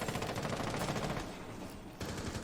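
Rapid automatic gunfire in a competitive video game match, a fast continuous rattle of shots that eases off before a second burst, dense and fairly quiet with no talking.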